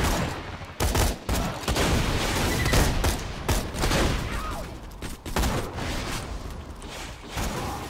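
Rapid gunfire from Borderlands 2 co-op play, dense bursts and volleys of shots rattling almost continuously, loud and close, with mechanical clicks mixed in.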